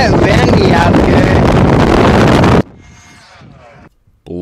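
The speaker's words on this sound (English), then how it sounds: "It's a bit windy out here." Loud gusting wind roars against the microphone for a couple of seconds, then drops abruptly to a quieter, distant rush before a brief silence.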